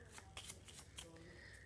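A deck of playing cards being shuffled during a card trick, quick papery riffles and snaps close by, set against a faint room background.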